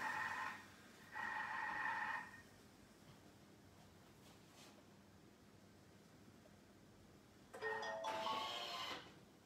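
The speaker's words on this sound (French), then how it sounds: "les cloches viennent de sonner" Church bells rung somewhere outside a kitchen where a salmon and leek puff-pastry dish is being prepared, heard as two loud bursts at the start and a third toward the end, separated by quieter room noise.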